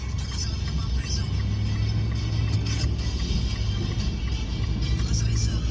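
A truck's engine rumbles steadily as it drives through a deep flooded street after a typhoon, low and continuous with a faint wash of water, no talk heard.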